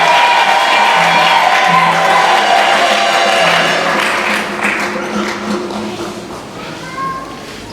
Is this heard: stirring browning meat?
no